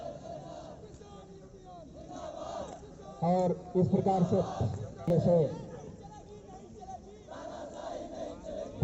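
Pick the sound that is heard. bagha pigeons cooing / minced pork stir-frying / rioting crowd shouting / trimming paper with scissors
rioting crowd shouting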